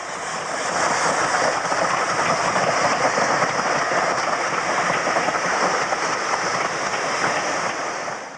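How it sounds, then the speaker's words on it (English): Steam locomotive A4 4498 Sir Nigel Gresley rolling round the curves of Poole Station, a loud, steady broadband roar of wheels and carriages passing close by, sustained without a break and with no voices. "Here she rolls round the curves of Poole Station on Sunday the 4th on her way west."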